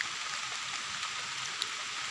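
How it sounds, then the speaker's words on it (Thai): Rain falls steadily in a forest where wild mushrooms are being gathered, a dense, even hiss of drops close by with a few louder drips and no voices. "ฝนก็ห่างตก"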